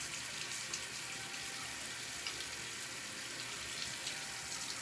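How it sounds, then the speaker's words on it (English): Warm tap water running into a sink, a steady close hiss and splash throughout with no talking. "We're gonna get our warm water going."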